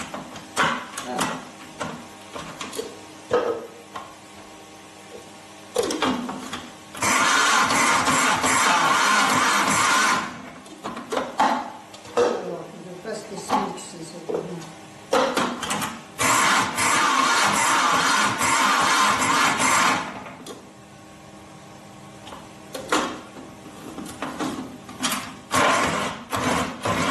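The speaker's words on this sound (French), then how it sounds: "d'abord un peu mixer le poisson, d'abord mixer un petit peu" A kitchen blender whirs loudly in two bursts of a few seconds each, chopping fish with a piece of walnut, with clattering and handling noises between runs.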